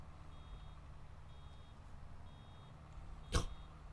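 A truck reverses in Farming Simulator 22, with faint, steady reversing beeps under a low engine drone and one brief louder click or knock near the end.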